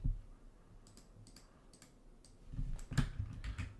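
Quick, uneven clicks of typing on a computer keyboard, faint and close, over a low background hum that grows a little louder toward the end, with no talking.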